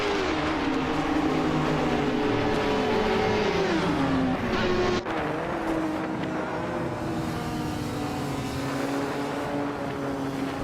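Race cars in a video game roaring side by side, a sustained loud engine drone with shifting pitch and a brief dip midway, engine notes overlapping continuously.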